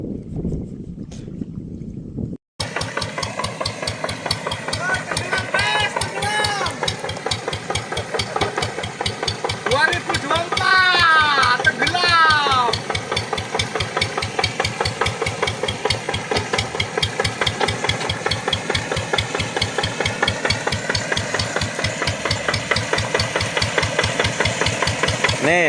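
Boat engine running steadily in flood water over submerged rice fields in Mesuji, Lampung, loud and close with a continuous rhythmic thrum, water churning and voices talking over it.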